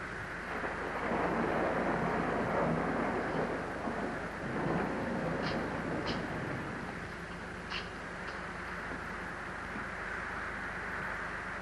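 A thunderstorm with steady rain, a continuous broadband wash of rainfall and distant rumbling thunder that swells early on, then settles into a softer, even downpour.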